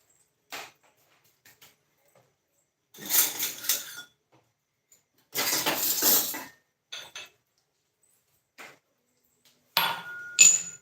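Peeled country garlic cloves crushed with sharp pounding strikes, arriving in short irregular bursts of knocks and clatter separated by near silence, close and crisp.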